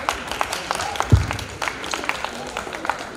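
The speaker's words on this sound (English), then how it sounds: "Give him a round of applause" Brief applause from an audience at a student union hustings as a faculty officer candidate is introduced, a short burst of clapping near the start that quickly thins out.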